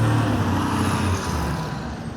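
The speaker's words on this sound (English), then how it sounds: "We'll wait for this tractor to pass here." A tractor passes by on a road, a loud low engine rumble that is strongest at the start and slowly fades as it moves away, with no talk over it.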